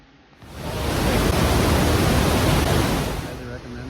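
A waterfall roars at Trümmelbach Falls in Lauterbrunnen, Switzerland, where ten tiers of falls drop through the rock. It swells in within half a second into a loud, steady, close rush of water that holds without a break.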